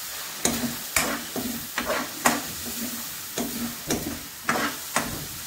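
Tomatoes go into frying masala for a liver curry, producing a moderate sizzle with repeated scraping strokes of a spoon stirring the pan at an uneven rhythm, close and clear.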